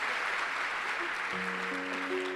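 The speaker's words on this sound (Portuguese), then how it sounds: "Pode dar uma salva de palmas para o meu chefe aí, gente?" A crowd claps steadily throughout, a broad wash of applause with a faint tonal sound entering partway through.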